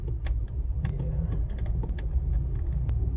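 Cars pass along a street in a steady low rumble, with intermittent clinks and rattles nearby and no talk.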